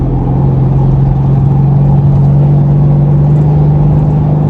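A Dodge Challenger SRT 392 Scat Pack Hemi V8 carrying about 60 mph through a corner in fourth gear, heard as a loud, steady low engine drone and rumble from inside the car, with no talking.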